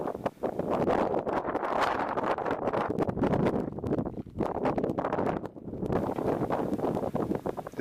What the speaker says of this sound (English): The wind has kicked up big clouds of salt out there on the salt flats.